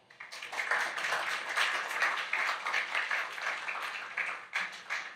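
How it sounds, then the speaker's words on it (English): Applause from an audience welcoming a guest speaker, Mr. Etienne Bossot, at a talk: dense, steady clapping from many hands filling the room for about five seconds, dipping briefly near the end, with no talk over it. "one big round of applause for Mr. Etienne Bossot"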